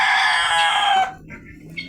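Guinea fowl and other pet birds calling close by, with a loud harsh cackling burst lasting about a second, then fainter scattered chirps.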